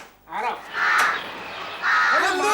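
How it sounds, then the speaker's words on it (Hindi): A crow caws loudly, twice, each harsh call close and prominent, while someone speaks briefly between the calls during an indoor comedy scene. "कौवा जोर से बोल रहा है"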